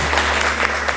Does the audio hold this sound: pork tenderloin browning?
no